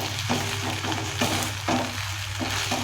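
Okra (bhindi) cooking uncovered in a pan for a masala dish, a continuous close sizzle with occasional stirring clatters over a low steady hum.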